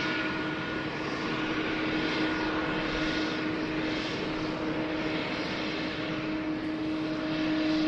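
An Asiana airliner in Star Alliance livery at Sydney Airport gives a steady, broad jet roar that holds at an even loudness throughout, with no voices.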